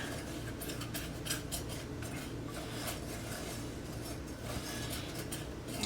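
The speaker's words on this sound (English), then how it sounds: "I'm just gonna use my whisk to get those together with real quick" A whisk stirs cocoa powder into dry ingredients in a bowl for a chocolate custard and banana pie, giving a steady run of quick metallic clinks and scrapes against the bowl, close by and fairly quiet.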